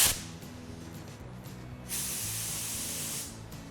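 A paint spray gun running at 40 at the gun sprays a test pattern onto a piece of cardboard, a steady close hiss that swells louder for over a second before cutting off, with a low hum underneath.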